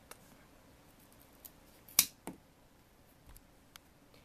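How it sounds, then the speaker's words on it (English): Scissors snip through a plastic straw with one sharp, close cut followed by a smaller click, set among a few faint ticks in a quiet room. "after the bent part, at the top, you can cut it to the desired length"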